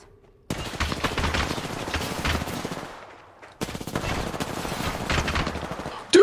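Rapid automatic gunfire from an Old School RuneScape session rattles in two long, dense bursts separated by a brief lull, loud and continuous with no talking.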